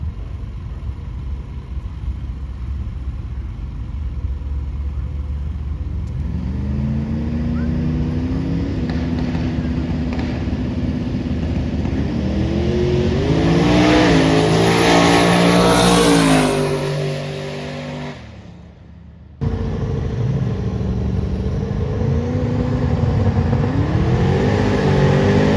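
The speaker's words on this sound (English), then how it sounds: "a few cars making passes" Cars making drag-strip passes at Shadyside roar off the line, their engines climbing through the gears in a loud rising howl. Power cuts briefly, then another pass revs up nearby.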